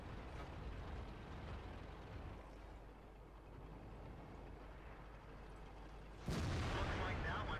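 A single sudden cannon blast from an IS-6 heavy tank in World of Tanks, bursting out near the end after a long stretch of low, quiet rumbling.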